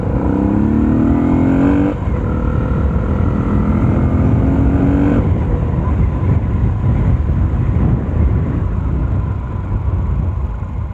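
A Yamaha Sniper 150 motorcycle fitted with a racing ECU revs hard and pulls away, its rising engine pitch climbing through two gear shifts before settling into a steady running drone as it moves off.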